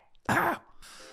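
A single harsh throat-clearing cough from someone, loud and close, lasting about a quarter second, followed by quieter breathy room sound.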